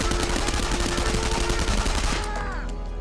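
Submachine gun fire in a film scene set at a prisoner of war camp, a dense continuous rattle of rapid shots over a loud background that thins out near the end.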